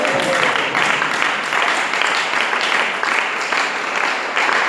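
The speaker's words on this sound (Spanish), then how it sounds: "Bríndele ese aplauso a Él, a Él" A church congregation breaks into sustained, even applause offered to God, a thick continuous patter of many hands filling the room, with faint voices mixed in.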